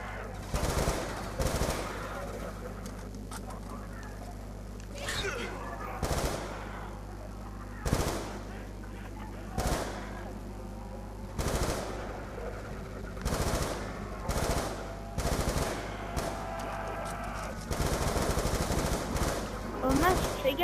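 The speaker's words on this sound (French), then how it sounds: "tu gaspilles beaucoup de balles pour un zombie" Rapid gunfire from Call of Duty Black Ops 2 zombie mode, repeated short bursts of automatic shots spaced a second or two apart, loud and close, under occasional game sounds.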